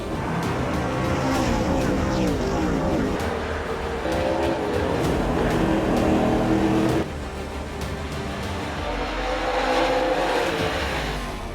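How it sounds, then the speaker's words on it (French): GM race cars battle for position on a circuit, their engines roaring loudly and continuously with rising and falling revs as the cars pass close together, no voices heard. "grosse bataille entre les deux voitures GM Payet"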